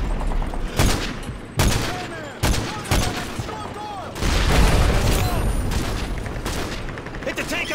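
A-10 gun runs strafing tanks in Call of Duty Modern Warfare 3, heavy rolling bursts of cannon fire and booming impacts repeating in waves over dense battle noise, with voices talking beneath.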